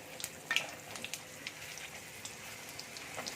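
Garlic paste and dried red chilies sauté quietly in a little hot oil, a faint steady sizzle with scattered soft pops and crackles.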